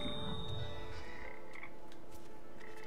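Frogs croak in the video game Papo & Yo, a few close, faint calls over a humming ambient background with no talking.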